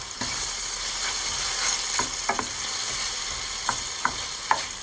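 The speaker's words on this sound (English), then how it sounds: "We're gonna let the onions cook about 5 minutes." Onions sauteing in a hot pan, a steady close sizzle with a few sharp crackles and scrapes of stirring scattered through, no voices.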